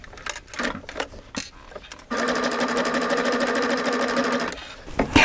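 A Baby Lock serger with an open toe foot stitches an elastic edge on athleisure fabric, running in a fast, even mechanical whir for about two and a half seconds after some quiet handling noises and a brief voice.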